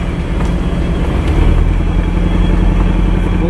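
A Toyota MR2 engine runs loud and close with a steady rough drone, its misfiring skip showing as faint irregular pulses in the otherwise continuous motor sound.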